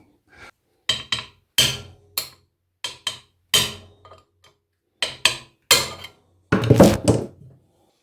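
Sharp metallic taps from a small hammer tightening a bolt during an LG F-1220TD washing machine drum and bearing repair, in short clusters, close and crisp, with pauses between bursts and a longer ringing flurry near the end.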